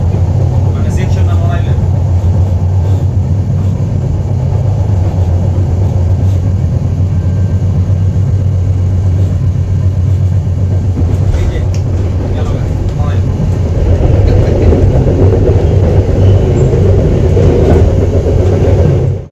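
The Rupsha Express, a cross-country train running from Khulna toward Chilahati, rumbles steadily with a deep, loud roar and rattling carriages, the noise swelling stronger toward the end.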